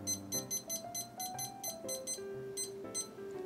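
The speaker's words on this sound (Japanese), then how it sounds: "15分セットしてスタート。" Kitchen timer being set for 15 minutes: a run of quick electronic beeps and pitched tones in steady succession, close and clear, with no talking.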